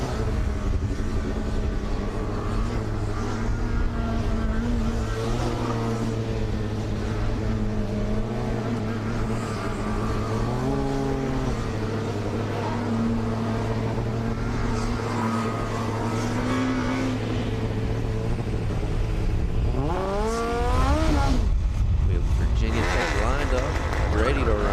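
A Formula SAE combustion race car runs the skidpad at a 2024 student competition, its engine holding a steady droning tone at a distance before revving up sharply near the end, with a commentator talking over it.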